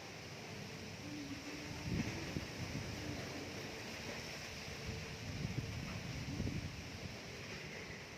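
Wind blowing steadily outdoors ahead of an expected dry storm with no rain, a broad continuous rush with slightly stronger gusts and low rumbling buffeting against the microphone.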